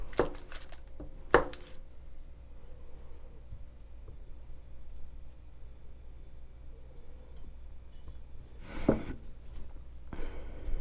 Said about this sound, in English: I'm also going to cut up and add 4 tablespoons of butter.